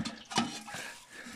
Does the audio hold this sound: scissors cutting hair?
no